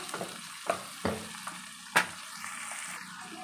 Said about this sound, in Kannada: ಟೊಮೆಟೊ ಹಾಕಿದ್ದೀನಿ ಇವಾಗ ಇದೆಲ್ಲ ಫ್ರೈ ಆಗಬೇಕು